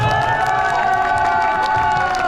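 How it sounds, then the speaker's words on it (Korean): A crowd cheers and claps together in a steady, lively roar, with high shouts rising over the continuous noise, at an official Wuthering Waves first-anniversary stage event. "고객님께 다시 한번 박수 부탁드리겠습니다"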